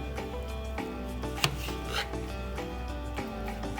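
A knife cuts lengthways through firm plantain on a board, with a few sharp cuts standing out over a steady low background hum.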